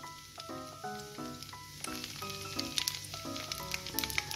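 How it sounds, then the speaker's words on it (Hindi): Cumin seeds and dried red chillies sizzle in hot oil in a pan, a steady crackling hiss with small pops, partly covered by a tuneful melody playing over it throughout. "पैन में हमने तेल ले लिया है, उसमें हम जीरा डालेंगे, सूखी लाल मिर्च डालेंगे"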